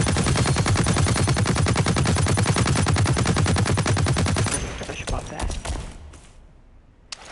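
A machine gun fires a long, rapid, loud and close burst in the first-person shooter Blacklight Retribution, then stops, leaving scattered clicks and quieter mechanical rattles.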